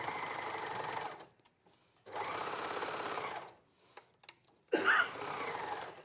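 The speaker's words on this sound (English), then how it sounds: "When sewing around a curve like this on the overlocker, I just move it, move the fabric, follow it around." An overlocker sewing around the edge of jersey fabric, steady whirring mechanical bursts in three runs separated by short pauses, close and fairly quiet, with a small clack as it restarts.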